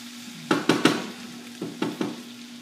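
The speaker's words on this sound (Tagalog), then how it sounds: "Tapos ilalagay ko na yung water." Broad beans frying in a pan as water is poured in, giving sharp close bursts of sizzle and scraping: three in quick succession, a pause, then three more, over a low steady hum with no talk.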